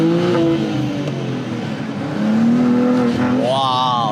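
A BMW M car with the S58 engine accelerates hard, its engine note rising and falling through shifts before a sharp final climb, heard close and loud from the driver's seat.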